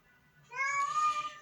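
A domestic cat gives a single clear, drawn-out meow, close and moderately loud, following a moment of quiet.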